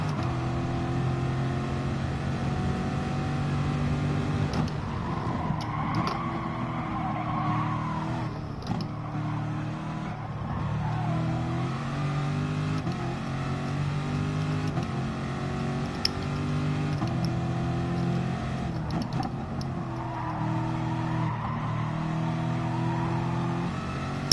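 Car engine in Gran Turismo Sport, a sustained droning hum that rises and falls in pitch through repeated shifts, steady and prominent for the whole stretch.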